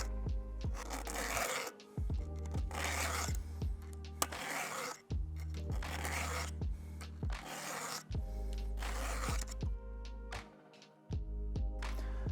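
A Milwaukee chainsaw chain is sharpened with a hand file, producing close rhythmic rasping strokes, about eight even passes separated by brief pauses.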